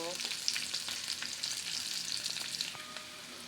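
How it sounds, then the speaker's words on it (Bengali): Onions, green chillies and turmeric fry in a pan for radish bhaji, a quiet, even crackling sizzle with light spatula stirs, close and fairly faint, no talking. "মূলা ভাজির জন্য এখানে পেঁয়াজ মরিচ দিয়ে দিলাম, দিয়ে হলুদ দিয়ে দেব।"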